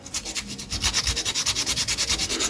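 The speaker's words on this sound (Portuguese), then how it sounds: "Então encontrei essa lixinha aqui, eu vou fazer um acabamento aqui na parte externa, ó, retirar ali toda a rebarba" Sandpaper rubbed over a plastic air fryer timer knob part to take off burrs, heard as quick, close, rhythmic scratchy strokes repeating at a steady, brisk pace.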